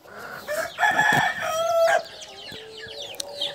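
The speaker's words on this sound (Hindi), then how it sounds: "फिर पचास मुर्गों का फार्म है" Desi roosters crow on a free-range poultry farm. A loud, close crow is followed by softer clucks and chirps, with no talking.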